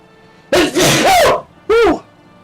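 Two loud, close sneezes, the first long and drawn out, the second short and sharp, heard alone with no talk.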